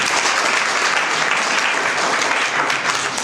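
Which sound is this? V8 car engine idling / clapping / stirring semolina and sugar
clapping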